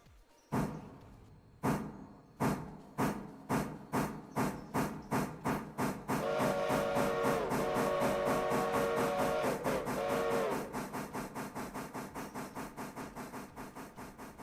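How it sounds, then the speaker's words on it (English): Rhythmic steam exhaust chuffs from a steam locomotive in the video game Railroader, slowing and softening over time, with a sustained whistle blowing through the middle. "You may now join me in the beautiful whistles."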